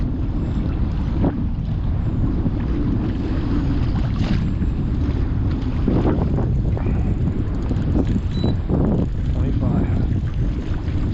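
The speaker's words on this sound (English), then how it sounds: "I honestly don't know what to do about the wind." Strong wind buffeting a microphone on a fishing kayak in stormy weather at sea, a constant loud low roar with gusty rumble and faint splashes, no speech.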